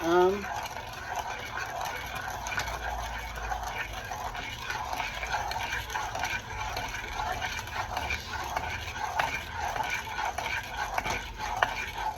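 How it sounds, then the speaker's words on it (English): Honey salmon glaze is being whisked in a bowl, a quick, continuous rhythmic scraping and tapping under a person's talking. "whisk, whisk, whisk, whisk, whisk, whisk it"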